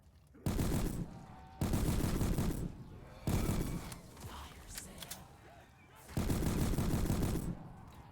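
Rapid automatic gunfire in a Black Ops 3 custom zombies match on the Quiet Cosmos map, coming in four loud sustained bursts with brief pauses between them and quieter game noise in the gaps.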